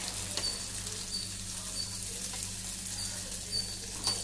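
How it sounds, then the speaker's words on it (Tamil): Potatoes fry on a tawa as they are flipped: a soft, steady sizzle with a few light clicks and scrapes from turning, fairly quiet and without speech. "இதை வந்து நம்ம எல்லா உருளைக்கிழங்கையும் அடுத்த பக்கம் திருப்பி விட்டுடலாம்."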